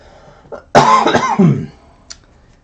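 A single harsh cough bursts out close and loud, a brief phlegmy throat-clearing hack with a short rough tail, from someone who has had a nagging cough for two months.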